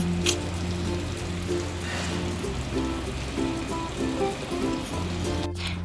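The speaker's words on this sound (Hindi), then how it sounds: "और बारिश देखो आप, 2 दिन से कंटिन्यू ऐसे ही बारिश हो रही है" Heavy monsoon rain that has fallen for two days pours down outside a canteen, a steady, dense hiss with no pause, close and fairly loud, with a faint hum running underneath.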